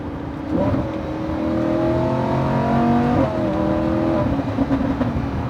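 An LBWK widebody Lamborghini Huracan in sport mode, its engine rising into a loud sustained rev, pitch climbing smoothly, dipping briefly, then pulling up again, heard close without talk.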